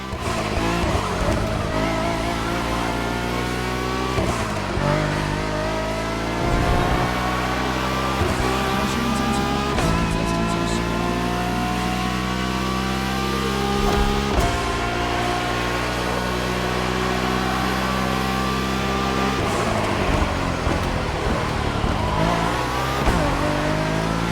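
Acura NSX GT3 race cars in The Crew Motorfest howl on a track with long straights and tight turns, the near engine revving hard through repeated upshifts and dips, with brief tire squeal and other cars mixed in.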